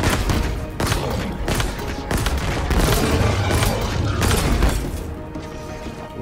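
Rapid bursts of gunfire in Halo Infinite, loud and dense, with heavy booming shots and thuds packed together across the whole stretch and no talking.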